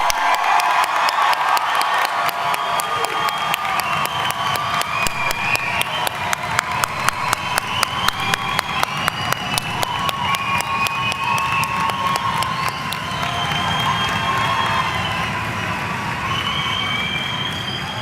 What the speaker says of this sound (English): Now let's give our graduates a round of applause.